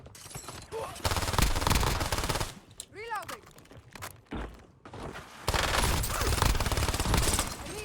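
Bursts of rapid Gremlin SMG fire in Black Ops 7 rattle in loud sustained volleys, broken by short pauses, a few rising whistling game effects and footstep shuffles.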